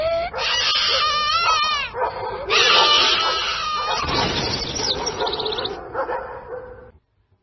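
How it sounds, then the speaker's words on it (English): Dogs whimper and yip in high wavering whines, mixed with barks and bird chirps, fairly close and continuous before fading out at the end. "even the dogs would become scared and start to whine"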